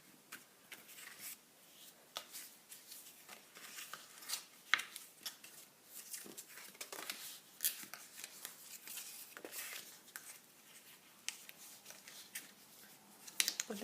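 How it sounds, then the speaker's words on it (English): Card box panels being folded back and forth along their score lines, giving a string of soft crisp creases and rustles close by, with no talking. "I'm going along all the folds. I'm just going to give them a fold each way."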